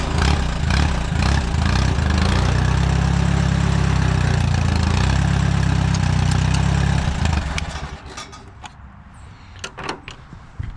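A 1944 Allis Chalmers B tractor engine runs loud and steady with low rumble for about seven seconds, then quickly dies away, leaving faint clicks and settling noises.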